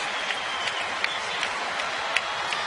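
Crowd of about thirty thousand at a night baseball game in Houston applauding steadily, a broad wash of clapping with scattered sharper claps, heard from the broadcast booth without commentary over it.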